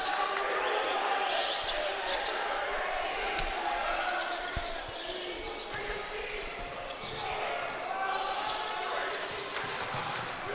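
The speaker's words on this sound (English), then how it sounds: "Martinez dribbling through the pressure" A basketball dribbled on a gym court during a varsity boys game, sharp bounces thudding at intervals under crowd noise and play-by-play commentary.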